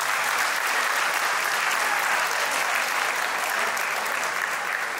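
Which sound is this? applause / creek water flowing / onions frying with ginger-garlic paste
applause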